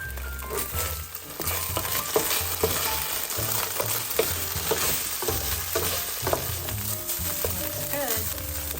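A soy-based sauce for sticky ginger beef sizzling hard in a hot pan, a loud, steady frying hiss with frequent stirring scrapes and clinks close by, and a voice briefly heard.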